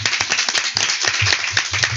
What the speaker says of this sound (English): Give him a clap for that fantastic question.